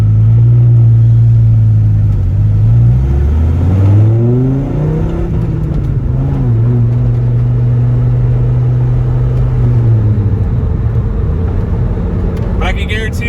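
Dodge Viper engine revving up and settling back into a loud, close, throaty rumble, with the pitch rising and falling over several seconds and no talk.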